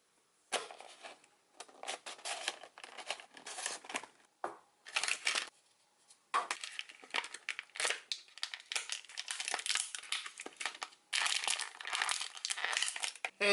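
A Hasbro Star Wars Vintage Collection 3.75-inch action figure being opened from its plastic and cardboard packaging, with repeated close crinkling, crushing and tearing bursts separated by brief pauses, loud and alone.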